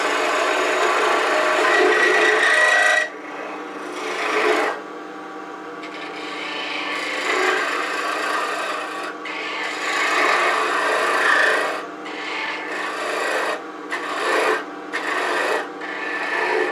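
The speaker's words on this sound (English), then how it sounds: "Rotate the body, turn and advance." Close, loud scraping and hissing as a tool cuts into a cherry burl pot box spinning on a lathe, with a steady low hum beneath and the cutting noise swelling and dropping in uneven stretches.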